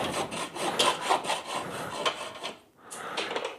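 A hacksaw cuts through an aluminium motorcycle gear shift lever in a home workshop, with quick back-and-forth rasping strokes, close and fairly quiet, and a brief pause near the end before sawing resumes.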